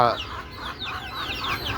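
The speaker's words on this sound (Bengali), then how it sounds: "আর এদিকে আমার কোষা মুরগি আছে, এই যে দেখেন ভিতরে আমার" Caged chickens clucking close by, a run of short repeated clucks and squawks over the whole stretch, with some faint background noise.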